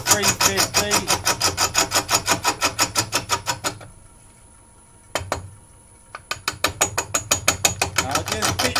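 Mallee burr spinning on a wood lathe at about 350 rpm, a loud rapid clacking pulse of rough wood strikes that stops for a couple of seconds with a few knocks, then resumes, close by.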